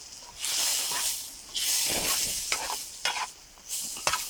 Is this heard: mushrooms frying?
yes